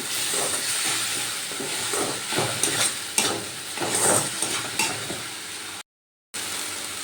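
Spices and Kashmiri chilli powder being sautéed in oil in a pan, a continuous hissing sizzle with repeated soft scraping strokes of a spatula, steady and fairly close, with no voices, broken by a brief drop to silence.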